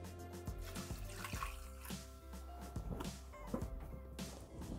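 Water pours into a Thermomix mixing bowl holding chopped vegetables, a close trickling and splashing pour with dripping for several seconds and no voices.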